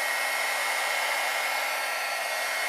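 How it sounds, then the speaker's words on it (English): Heat gun blowing hot air over an embossed card during an iridescent ice embossing technique, a loud continuous whirring hiss held at a steady level from start to finish with no talking. "you can see where you've actually hit it with the gun"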